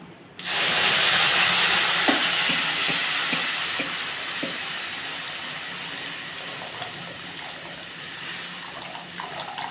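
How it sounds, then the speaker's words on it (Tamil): Tamarind water pours steadily into a pan with a continuous splashing hiss, close by, fading slightly over several seconds with faint clinks. "இப்போ புளி கரைசல் ஊற்றிடலாம்."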